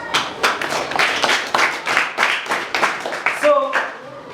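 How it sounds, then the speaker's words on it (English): A room of students claps together for several seconds in dense, uneven bursts during a school biology lesson, with a few voices calling out over the noise near the end. "Clap for yourselves."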